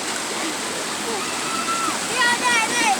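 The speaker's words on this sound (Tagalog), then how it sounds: "Nindot ang falls diri sa Apa-Apa" The Apa-Apa Falls waterfall rushes in a steady broadband roar with splashing water nearby, while a person talks over it and birds chirp toward the end.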